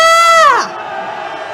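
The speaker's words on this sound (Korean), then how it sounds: "환영의 함성 질러봅시다!" A loud cheering cry rises over a crowd at a Saturday candlelight rally in Seoul, sliding downward in pitch and breaking off within half a second, followed by a softer crowd murmur.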